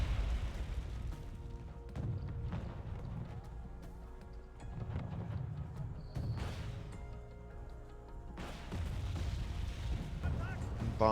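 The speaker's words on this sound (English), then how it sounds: "Bombs are out onto the Leopard, who of course just started moving." Bombs from a MiG-23 jet explode on Leopard tanks in a wartime strategy game. Repeated heavy booms and artillery-like blasts come at irregular intervals over a continuous battle din, some landing nearer and louder than others.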